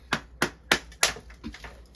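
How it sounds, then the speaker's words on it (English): A hammer strikes a chisel wedged under a carpet tack strip in five sharp, close blows spaced at uneven intervals, the last one softer. "hitting that with the hammer and the chisel will just basically pop that right out"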